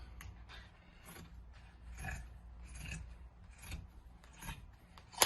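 Scissors cutting through a t-shirt along the back seam, a series of soft rasping snips in a slow, regular rhythm, close and fairly faint, ending with a sharp click.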